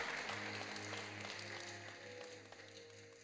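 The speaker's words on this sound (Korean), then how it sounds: "여러분께 박수로 환영하십시오" A church congregation claps in welcome, producing a soft, continuous patter of many hands heard from a distance over a low organ-like hum.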